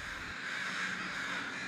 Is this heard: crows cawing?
yes